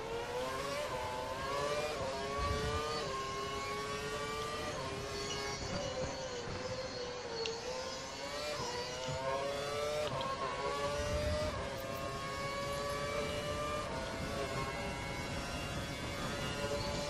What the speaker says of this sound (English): Car coming out the pit lane